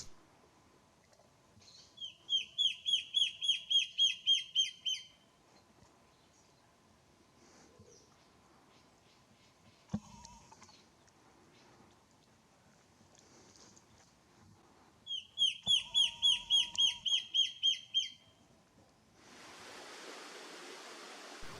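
A slender antbird calls in humid Atlantic forest, giving two separate bursts of rapid, evenly spaced repeated notes with a long quiet gap between them, against faint background hush.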